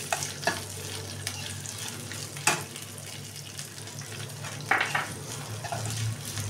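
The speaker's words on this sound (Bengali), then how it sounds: "এবার আমি এর মধ্যে দিয়ে দেবো পেঁয়াজ কুচিটা" Chopped onion frying in oil in a wok over black cumin seeds, a steady close sizzle with a few sharper stirring clatters and pops, no talking.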